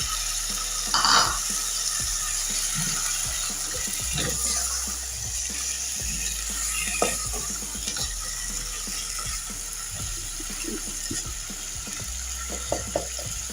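Chicken frying in a pan for a Punjabi chicken gravy, a steady soft sizzle with intermittent clicks and scrapes of stirring, moderately quiet and with no talk.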